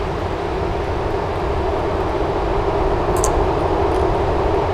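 Steady, loud broadband jet roar of a JustFlight Hawk trainer on landing approach in a flight simulator with flaps fully down, holding a constant drone throughout with a brief high whine near the middle.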